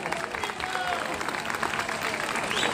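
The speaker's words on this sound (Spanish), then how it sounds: "vamos a comenzar esto regalándonos un fuerte, fuerte, fuerte aplauso" A summer outdoor crowd in Río Bueno breaks into loud, sustained applause at a comedy show, dense clapping with scattered voices and cheers mixed in.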